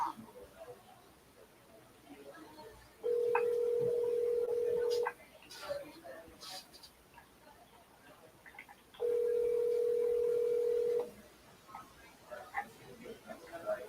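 Telephone ringback tone on a call, two long steady electronic tones separated by a pause, fairly clear over faint background noise.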